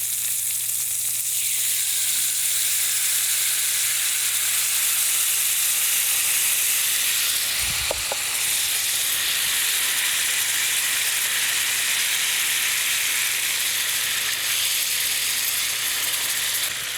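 Pork chops sear in a hot frying pan, a loud continuous close sizzle and hiss with a brief clatter partway through and no talk.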